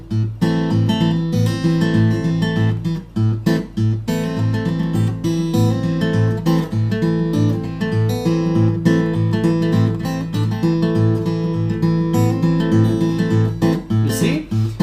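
Guitar Travis picking in a ragtime style, a steady alternating bass pulse driving underneath a busy melody of plucked treble notes, loud and close, continuous with no talking.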